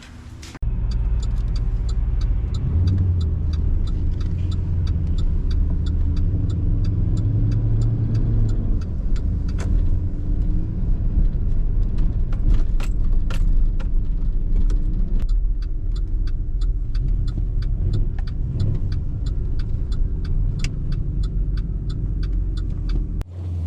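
Inside a 1957 Chevy convertible on a snowy road, a steady engine rumble and road noise hold throughout, with the engine note shifting and many small clicks and taps from the cabin, and no talking.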